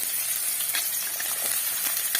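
Chopped onions hit hot oil in a pan while cooking Mangalore-style clam sukka, giving a steady, close, bright sizzle that holds evenly throughout with no talking.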